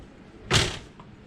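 A Lippert self-closing screen door on a Grand Design Solitude 390 RK RV swings shut on its own, giving one short broadband thump and rattle against quiet surroundings, followed by a faint tap.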